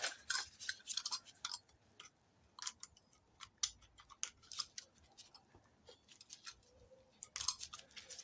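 Material trimmed back with scissors on the steering column of a 1970 MGB GT, with a scattering of crisp close snips and clicks spread unevenly over quiet gaps.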